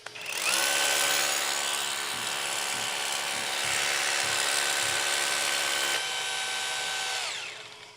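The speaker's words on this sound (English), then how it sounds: "We're going to put it onto this 28 hammer." A Bosch cordless rotary hammer drilling concrete whines at a high, steady pitch for several seconds with a dust-extraction vacuum running, a few thuds and clunks underneath, then winds down and stops.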